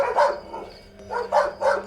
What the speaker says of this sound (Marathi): साले कुत्रे भल्ले भुकून राहिले